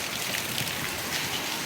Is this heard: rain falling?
yes